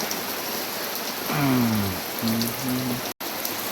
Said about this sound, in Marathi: पाऊस एवढा भयंकर आहे मित्रांनो.